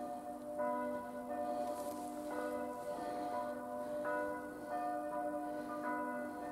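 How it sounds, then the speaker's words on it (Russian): Bells of a nearby Catholic church in a Polish residential neighbourhood ring out in repeated overlapping peals, steady and fairly loud throughout, with no talking. "Звук колоколов."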